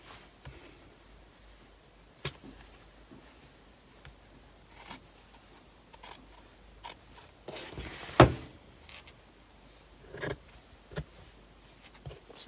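Scissors snip through layered fabric seams with facing and interfacing, a quiet, irregular series of short crisp cuts and clicks, close by, with one louder snip near the middle and no talk.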